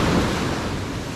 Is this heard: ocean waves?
yes